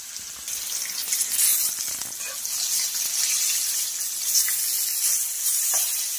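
Pomfret fish fry in hot oil, a bright, steady sizzle with crackling spits and small surges, heard close and on its own with no speech.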